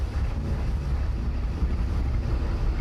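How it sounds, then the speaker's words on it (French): Engines of the German submarine U-515 rumble to life as it surfaces, a loud, steady low drone with broadband wash and no breaks. "Les moteurs reprennent vie."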